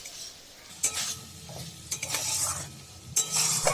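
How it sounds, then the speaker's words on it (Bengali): Ground spice paste fries with spring onions, the sizzle swelling with three bursts of vigorous stirring and metal scraping against the pan, close and fairly loud between quieter spells. "গুঁড়ো মশলার পেস্টটা অ্যাড করে আরও কিছুক্ষণ কষতে থাকতে হবে যতক্ষণ না এটা থেকে তেল ছেড়ে আসছে"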